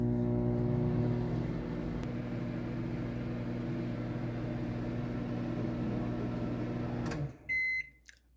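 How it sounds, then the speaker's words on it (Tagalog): Microwave oven running while cooking plantain bananas: a steady low hum that drops slightly after the first second, then stops, followed by a short burst of beeps. "So, atong siradan atong microwave."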